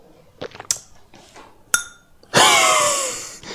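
Glass clinks several times close up, a few sharp bright taps, followed by a longer ringing, shimmering glass sound that slowly fades.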